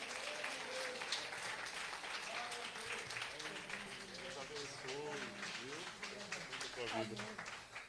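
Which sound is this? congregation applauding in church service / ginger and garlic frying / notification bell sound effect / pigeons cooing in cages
congregation applauding in church service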